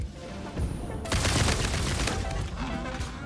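Rapid gunfire bursts from a weapon in the game Satisfactory, loud and close, with dense rattling volleys after a brief lull and a voice briefly heard.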